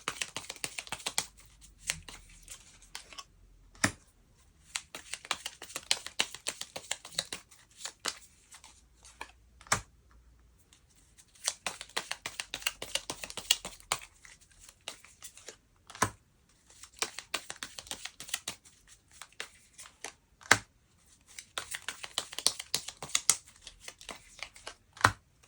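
Tarot cards being shuffled and handled during a love reading, heard as quick papery riffles and flicks in several bursts, separated by short pauses and a few sharp taps, close and fairly quiet with no talk.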